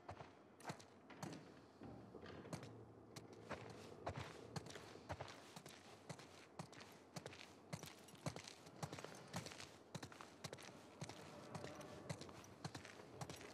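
Horses' hooves clip-clop steadily in The Last of Us Part II, a quiet, evenly paced stream of walking hoofbeats with soft thuds and no talk over them.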